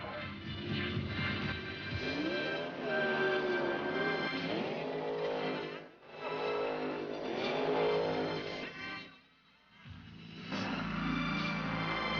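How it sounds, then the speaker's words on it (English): Drag racing cars at the 1983 NHRA Winternationals in Pomona, California roar in loud sustained engine runs that rise in pitch as they accelerate, with brief dips between passes. A crowd or track ambience sits beneath, and no one speaks. "Let's sit back and enjoy the visual variety of drag racing."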